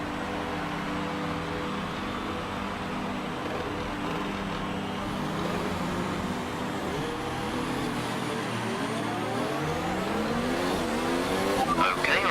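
Formula 1 car engine from the F1 2019 game at Hockenheim, a steady loud high-pitched whine with rising gear sweeps near the end, continuous throughout.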